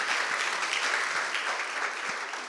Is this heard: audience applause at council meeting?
yes